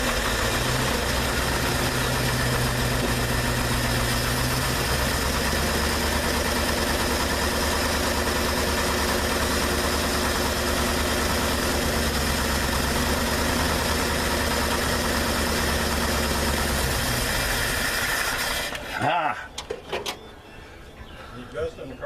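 A car engine idling steadily and loudly close by after its distributor has been adjusted, a continuous rumbling hum that cuts off near the end, followed by a few clunks and quieter sounds.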